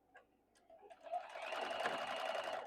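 A sewing machine stitches quilt block pieces for a modern quilt, starting with a few faint ticks and then running steadily and fairly close for the rest.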